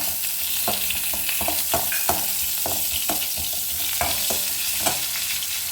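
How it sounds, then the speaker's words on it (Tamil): Pieces of dried rock fish fry in hot oil, a dense steady crackle and sizzle with frequent soft stirring knocks, close and uninterrupted by speech. "கருவாட்டை கொஞ்சம் பொரிய எடுத்துக்கிறோம் எண்ணெயில் கருவாடு எண்ணெயிலேயே பொரிஞ்சிருச்சு"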